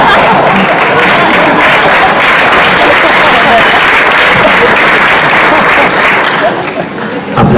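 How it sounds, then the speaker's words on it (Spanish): Loud, sustained applause from a large audience at an educational event, dense steady clapping filling the whole stretch and easing slightly near the end, with faint voices mixed in. "Aplaudan todos, por favor."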